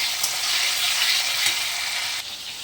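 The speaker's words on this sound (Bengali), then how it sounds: "আলুটা একটু ভাজা ভাজা হয়ে যাক" Cut, salted potato pieces fry with panch phoron in a pan, giving a loud, close, steady sizzle broken by the scrape of stirring, which eases off briefly near the end; nobody speaks.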